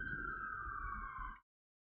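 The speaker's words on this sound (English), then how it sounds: "The police sirens is loud as fuck." A police siren on a New York City street sounds a steady, slowly falling tone over low traffic rumble, then cuts off abruptly into silence.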